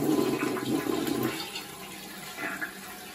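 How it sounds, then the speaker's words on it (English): A toilet fitted with an attached bidet flushes up close: a loud rushing swirl for over a second, then a quieter trickle as the tank refills. "So let's give it a test with a flush and see how we do."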